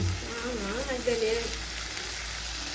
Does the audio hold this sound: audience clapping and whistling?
no